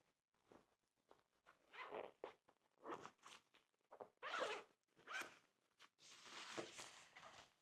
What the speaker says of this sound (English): let's take this out as well, again held by a zip which goes all around the jacket